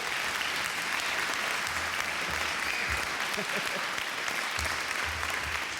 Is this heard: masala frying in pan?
no